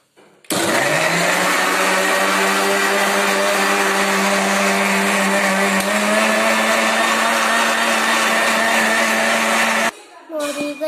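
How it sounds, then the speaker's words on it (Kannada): A kitchen mixer grinder blends cucumber with water into juice: a loud, steady motor whine switches on abruptly, runs evenly for about nine seconds, then cuts off into a brief quieter shuffle. "ಆಮೇಲೆ ಈಗ ಮಿಕ್ಸಿಯನ್ನು ಆನ್ ಮಾಡ್ತಾ ಇದ್ದೀನಿ"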